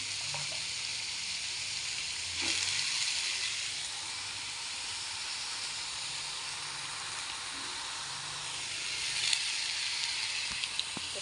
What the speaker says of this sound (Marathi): पण परतून घेते त्याच्यातच टाकते शापूची भाजी